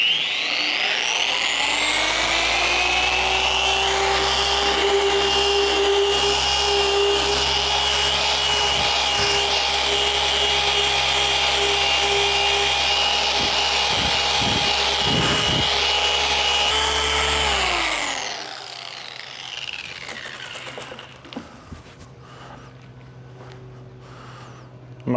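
A power polisher with a foam pad and liquid metal polish works a metal tank with a loud, steady, high-pitched whine and rubbing hiss, then spins down to a stop, leaving faint handling clatter.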